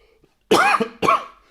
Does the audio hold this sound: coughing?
yes